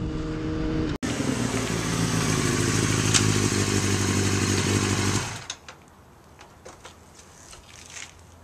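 A motorcycle engine roars steadily close by with wind rush during a ride, then a sharp knock and the engine noise drops away around five seconds, leaving quiet scattered clicks and rustles.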